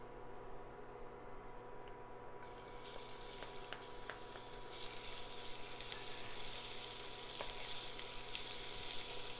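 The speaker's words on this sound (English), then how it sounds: "I'm going to add our couple spoonful of oil, and then we're going to immediately add our chili and garlic." Chili and garlic hit hot oil in a pan over medium heat, a quiet background turning into a bright, steady sizzle that keeps going to the end, with a few soft stirring clicks.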